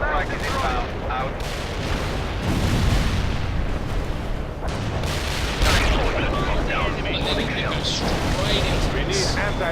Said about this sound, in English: Targeting enemy tank. Affirmative. Anti-tank strike is inbound.